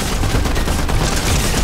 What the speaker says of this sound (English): Why is it every fucker is just shooting me?